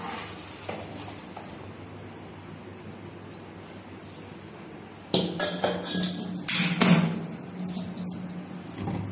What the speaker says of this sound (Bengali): আমি এবার ভাতের যে মাড়টা আমি ঝাঁকিয়ে নেব।